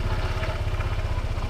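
A motorcycle engine idles while warming up, a steady low mechanical rumble with a faint clatter running continuously and close by, with no talking.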